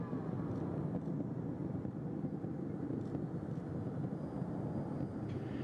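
Space Shuttle Atlantis climbing during launch, a dense, continuous low roar that stays steady and even throughout, distant yet heavy, with no voices over it.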